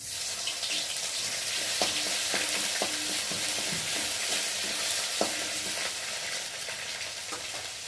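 Garlic sizzles steadily in hot oil in a home kitchen for a Bengali pumpkin-greens chorchori, with a constant bright frying hiss and occasional soft clicks of stirring, close and continuous without talk.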